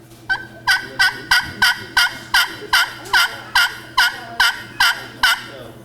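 Friction pot-style turkey call played up close, a loud series of about a dozen sharp, evenly spaced yelps, each a quick high chirp dropping in pitch, with no talking.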